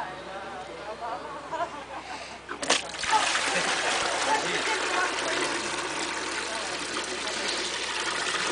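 Water splashing and gushing steadily as it drains and spins clockwise down a drain in the southern hemisphere, with leaves swirling in it; a sudden burst around three seconds leads into a continuous loud rush, while a voice talks faintly underneath.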